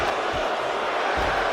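A wrestling arena crowd in the WWE 2K video game roars steadily throughout, a dense, loud wash of chanting and cheering with no pauses and a few faint thumps beneath.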